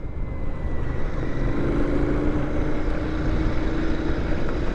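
A steady, loud engine drone from a 2021 Royal Enfield Continental GT 650 parallel-twin motorcycle, with a low rumble and wind noise, holding an even tone throughout while cruising.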